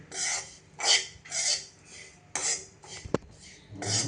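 Sesame seeds and grated coconut being dry-roasted in a pan, heard as repeated scraping and rasping strokes of a spatula against the metal at a steady rhythm, with one sharp clink partway through. Close and moderately loud, with no talking.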